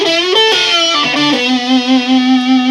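An electric guitar, a Harley Benton SC500, rings out through a Rat distortion pedal, a few picked notes then one sustained, buzzing tone that wavers as it fades, loud and close.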